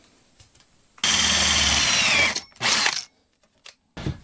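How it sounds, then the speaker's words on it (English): A power drill drives an additional screw into a mount on a bread oven under renovation, one loud continuous whir lasting over a second, then a shorter second burst and a brief final start, close and with no talk. "for extra strength, I'm going to add an additional screw"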